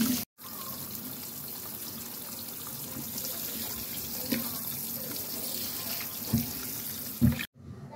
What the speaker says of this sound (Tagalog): Hugasan.